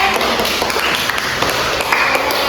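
A classroom group claps for a student team, a dense spread of handclaps filling the short span with a faint voice underneath.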